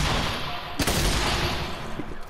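Rapid gunfire in the Fortnite video game shooting down a wooden build, a loud sharp burst standing out from a steady dense background of game noise.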